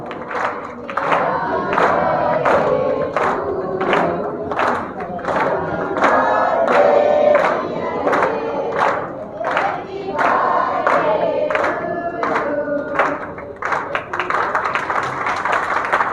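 A crowd at a birthday cake cutting claps in loud, rhythmic unison, with cheering and shouting mixed in, steady and close for the whole stretch.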